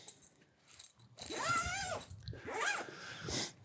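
Zipper closing on a US Army/USMC woodland winter sleeping bag from a modular sleep system, heard up close as two quick rasping pulls with a short pause between, fairly quiet and alone.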